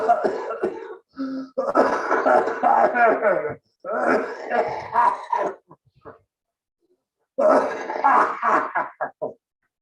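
Loud, close coughing in repeated raspy bursts, a few fits separated by brief pauses.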